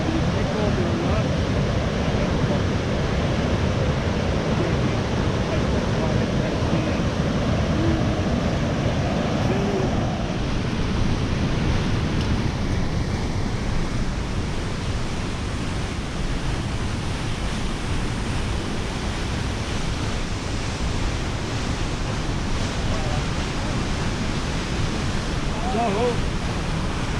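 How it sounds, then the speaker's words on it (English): River rushing through Maligne Canyon in Jasper, Alberta: a continuous broad roar of churning water held at a steady level, with a voice briefly talking over it partway through. "The river flows this direction into the Athabasca River."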